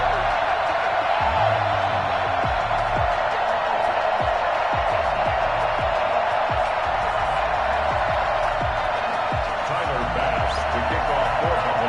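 A sold-out stadium crowd at a Buffalo Bills football game against the Los Angeles Chargers gives off a continuous, loud roar that holds steady throughout, with a steady stream of faint thumps beneath it.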